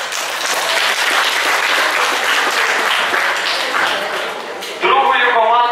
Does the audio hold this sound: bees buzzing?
no